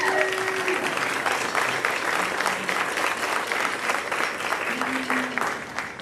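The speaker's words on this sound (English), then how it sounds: "Let's have a round of applause for Dean." An audience at a spring pops concert claps for a drummer, a steady, full round of applause from a sizable crowd, with faint scattered voices underneath.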